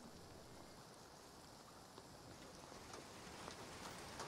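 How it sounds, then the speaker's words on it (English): Rain in the PS5 video game Tentacle Hunter, a soft, steady hiss of falling drops with the patter thickening slightly toward the end, quiet and alone with no talk. "Well, I hear rain."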